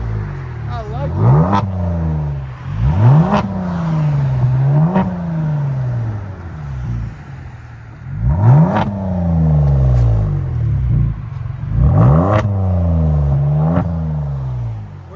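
A 2019 Kia Stinger GT with a 3.3L turbo V6 and resonators revs hard in a series of sharp throttle blips, each rising and falling quickly, grouped into bursts with pauses, loud and close.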